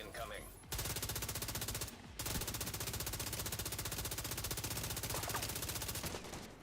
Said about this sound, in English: there's just no recoil on this weapon. So 76 rounds of no recoil on somebody's forehead